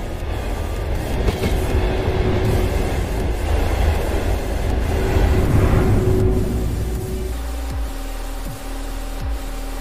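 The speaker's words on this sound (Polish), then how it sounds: "Jeden pociąg mi już odjechał." A train in the MaSzyna train simulator game pulls away with a steady rumbling roll and clickety-clack of wagons, loud and continuous, then settles into a quieter hum with faint tonal whine near the end.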